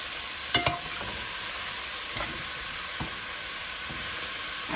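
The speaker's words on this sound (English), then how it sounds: "So I'm going to let this fry and you're going to see how it's coming along." Frozen spinach frying in a pan with salt, giving a steady soft sizzle with a few brief stirring clicks and scrapes, close and fairly quiet with no talking.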